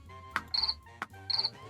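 Cricket chirp sound effect in a children's bug-finding coding game, two short bursts of rapid trilling chirps about a second apart, clear and close with no other sounds.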